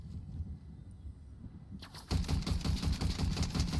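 Rapid automatic gunfire in Fortnite opens up after a quieter stretch of game ambience, a loud fast burst of repeated shots that continues steadily to the end.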